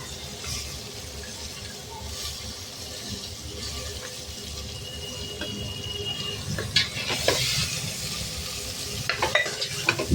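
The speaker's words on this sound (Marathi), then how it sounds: "आता आपण धुवून स्वच्छ केलेले गवार तेलात फ्राय करून घेणार आहे।" Washed cluster beans (guar) frying in hot oil while being stirred, a steady close sizzle with scraping and stirring clatter that grows busier toward the end, no talking.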